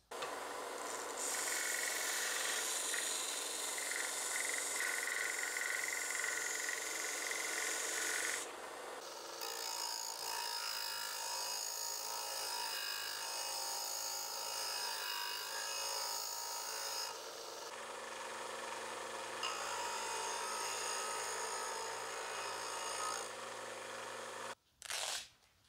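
Harbor Freight 1x30 belt sander shaping the wooden scales of a butter knife, a steady loud abrasive rasp that runs continuously in long passes, briefly pausing between strokes and cutting off at the end.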